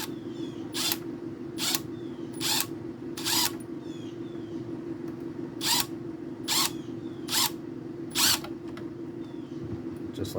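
A power drill whirs with a steady motor hum, broken by a series of short, sharp bursts as the bit bites into wood, close and fairly loud.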